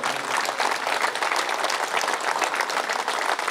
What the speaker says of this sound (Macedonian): Јас ве замолувам за еден голем, огромен аплауз за овие прекрасни луѓе тука.